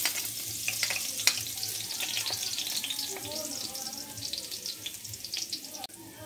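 Ginger sautés in hot cooking oil for pork alamang, a soft crackling sizzle with light stirring clatter, faint and close, with speech over it.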